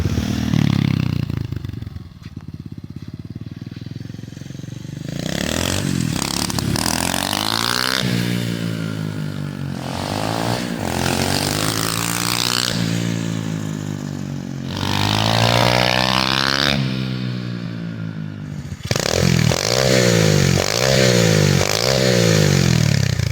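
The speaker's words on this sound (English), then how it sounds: "You can rev it up and make a lot of noise like this." Revving of an SSR 125cc pit bike engine, loud and close, with repeated throttle blips that rise and fall in pitch and sustained high-rpm pulls, heard alone with no talk.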